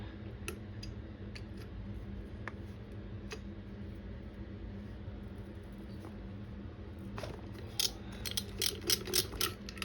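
An engine flywheel nut on a Bike Big Trike worked loose with a screwdriver, giving faint irregular ticks and ratcheting clicks close by, then a denser burst of metallic scraping and tapping near the end, with no voice.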